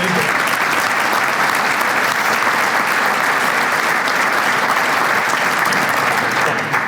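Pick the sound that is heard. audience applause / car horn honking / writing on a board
audience applause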